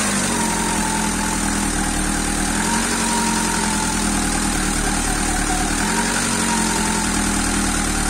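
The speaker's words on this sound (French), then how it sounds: "On va pouvoir tenter un démarrage en espérant que cette fois-ci ce soit la bonne." A Peugeot 106 Roland Garros car engine idles steadily at a constant, rumbling pace after starting, close and loud throughout with no other sounds.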